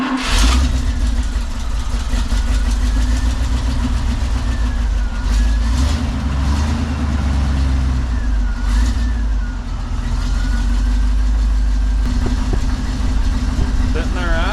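An International Loadstar truck engine idling, a steady low diesel rumble with faint mechanical whine, close and continuous, with a voice talking over it.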